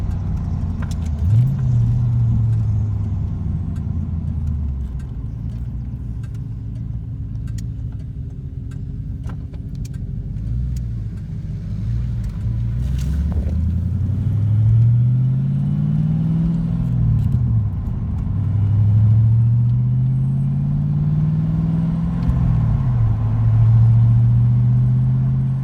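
Steady, loud interior rumble of a Fox Body Mustang 5.0 driving on a road, with engine tone rising and falling through several smooth gear shifts, and no talk over it.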